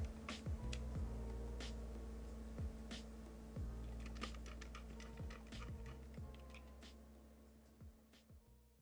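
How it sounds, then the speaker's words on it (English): Keys clack on a Thera 75 keyboard fitted with case foam, a loose run of crisp taps at an uneven typing rhythm, close and fairly quiet, with no voices. "Let's do a typing test with foam, with case foam."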